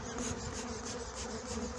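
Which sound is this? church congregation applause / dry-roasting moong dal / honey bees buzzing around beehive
honey bees buzzing around beehive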